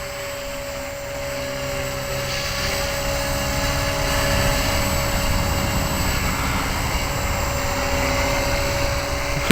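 An Align 250 RC helicopter on a test flight gives off a steady, high-pitched motor and rotor whine with constant tonal hum, fairly close and unchanging for the whole stretch, with no talking.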